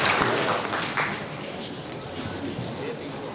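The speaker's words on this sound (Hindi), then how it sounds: "मंच पर जोरदार तालियों के बीच आयोजित आमंत्रित राजीव पांडे जी का स्वागत करें" Audience applause at an innovation and start-up summit at a government medical college in Banda, a rough wash of clapping that is louder at first and then eases into a steadier background.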